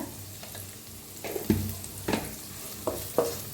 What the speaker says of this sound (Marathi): त्याला तेलात छान असं भाजायचं बघा छान असं भाजलेलं आहे लसूण